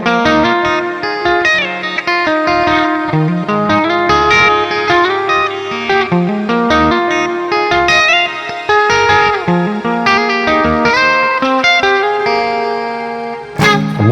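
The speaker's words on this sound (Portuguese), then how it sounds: "Esse shimmer no fundo, né? Junto com a distorção reverb." Electric guitar through the Neural DSP Gojira plugin with distortion and a shimmer reverb, loud continuous picked lines with a lush, echoing wash behind them, briefly dropping out near the end.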